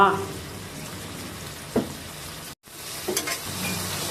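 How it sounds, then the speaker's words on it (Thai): Okra stir-fried in a pan with oyster sauce, a little water and sugar, a continuous close sizzle with occasional spatula scrapes and a brief cut in the middle. "ผัดไปจนกว่าทุกอย่างจะเข้ากันส่วนผสมจะ เข้ากันนะคะ"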